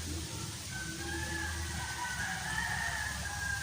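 A rooster crows in the distance beside a watermelon planting plot, faint beneath a steady outdoor background hiss, with no talking.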